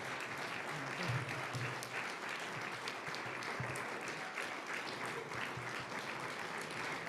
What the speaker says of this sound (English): And keep clapping for Robin Miskovich.